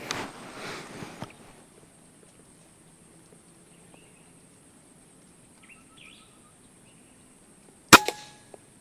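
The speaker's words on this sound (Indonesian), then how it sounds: "Kita mulai tembakan yang pertama." A single sharp shot from a B-Zad Klein VR-1 air rifle with a 27 cm barrel cracks near the end, after a long quiet stretch with faint outdoor background and some early handling noise.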